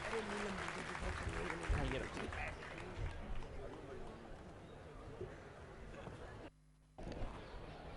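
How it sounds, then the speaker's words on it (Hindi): Applause from an audience at an ashram gathering, a dense steady patter of clapping filling most of the stretch before a brief drop-out and resumption, with voices mixed in. "जोरदार तालियों से उनका अभिनंदन करेंगे"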